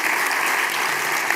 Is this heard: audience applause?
yes